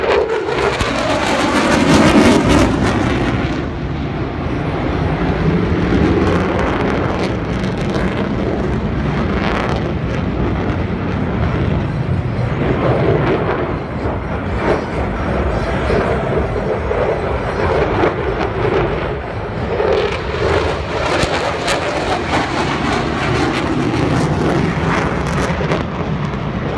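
F-15SG fighter jet pulling a high-G turn at an airshow display, a loud, continuous roar of jet thrust with wind buffeting that holds steady throughout, rising slightly at the start and toward the end.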